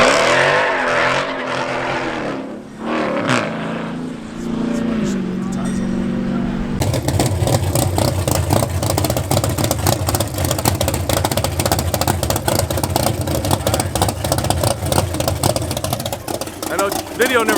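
Car exhaust with a front-mounted outlet at a private track, roaring loud and close, shifting from rough revving to a sustained, hard-driven drone that fills the space.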